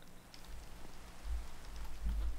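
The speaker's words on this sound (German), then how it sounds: "So, hat aufgehört zu regnen." Rain falls steadily in the video game Minecraft, a soft continuous hiss of drops that swells slightly toward the end, faint and alone with no voices.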